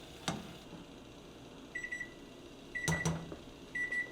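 An electronic kitchen timer beeps in short bursts over a steady low hum, a few quick chirps repeating at intervals, close by and moderately loud.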